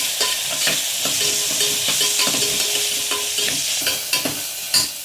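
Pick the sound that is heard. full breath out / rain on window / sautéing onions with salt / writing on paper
sautéing onions with salt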